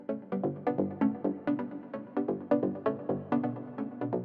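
Synth pluck riff from a summer hit, a bright rhythmic run of short plucked notes repeating steadily and clearly, alone without any talking.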